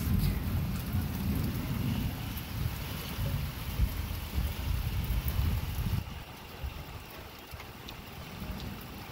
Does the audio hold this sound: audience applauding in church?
no